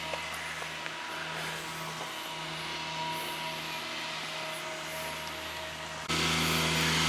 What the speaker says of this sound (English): That noise is somebody lawn mowing.